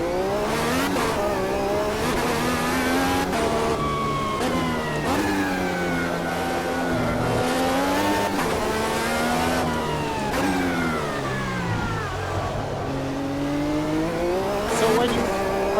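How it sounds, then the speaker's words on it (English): A race car in a sim racing video game, its engine revving hard and continuously through upshifts and downshifts, pitch climbing and dropping repeatedly through corners, loud and close, with occasional tire squeal. "Learn how to drive the race car in its raw form."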